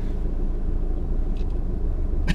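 Steady low rumble inside a moving car driving around Munich, continuous road and engine noise filling the cabin at an even level, with a brief faint rustle near the end and no talking.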